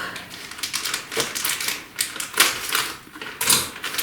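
A 12-ounce bag of Nestle semi-sweet chocolate morsels is torn open and the chips poured into a cup, giving a dense, continuous clatter and rattle close by.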